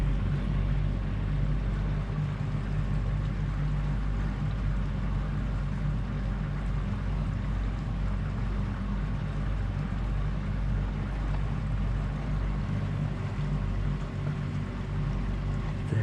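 A boat pushed by twin Epropulsion Navy6 electric outboard motors leaving its mooring, a steady low hum and hiss of motor and water running evenly throughout, fairly loud with light wind noise and no talking.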